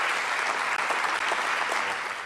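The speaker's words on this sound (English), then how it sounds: "let's give another round of applause to all of our speakers here today" An audience applauds speakers at the launch of a quantum research center at Middle Tennessee State University, a dense, steady burst of clapping that fills the whole moment.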